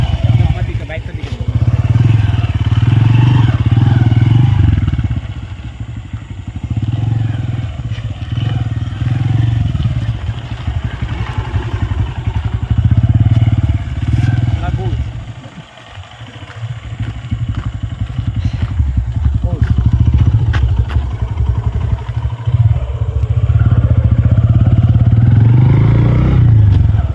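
A motorcycle engine drones loudly and steadily during a ride, dipping briefly midway before surging again, with wind rumble and people talking over it.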